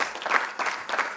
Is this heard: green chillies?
no